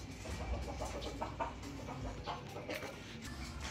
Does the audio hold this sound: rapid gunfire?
no